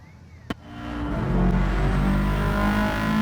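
A sharp click, then a Subaru rally car engine in Gran Turismo 7 revs up and settles into a steady, loud drone.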